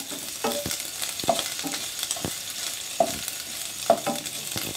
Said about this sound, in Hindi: ये देखिए मेरा लहसुन और अदरक हो रहा है।